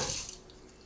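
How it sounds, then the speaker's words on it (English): Tap water runs into a kitchen sink while a knife blade is washed, a short, soft, close rushing splash that fades quickly. "As soon as you wash the blade, you quickly dry it, which I'm doing right now"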